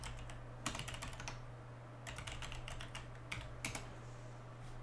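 Username and password being typed on a computer keyboard: several quick bursts of close keystrokes separated by short pauses, over a steady low electrical hum.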